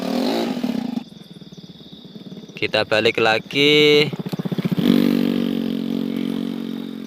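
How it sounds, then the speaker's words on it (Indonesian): A modified automatic scooter motorcycle hauling red bricks toward a kiln, its engine revving and puttering up close with clattering bursts, while someone talks over it. "Ini motor kenangan penuh sejarah."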